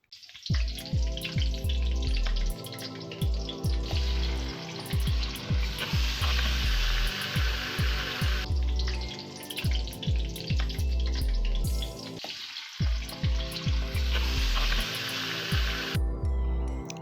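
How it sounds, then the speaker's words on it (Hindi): Chicken pieces fry in a pan with garlic, giving a loud, steady sizzle with crackling pops throughout and brief breaks near the start and middle. "अब इसमें चिकन शामिल कर देंगे और इसको इतनी देर तक पकाएंगे कि इसका कलर चेंज हो जाए और ये अच्छी तरह फ्राई हो जाए।"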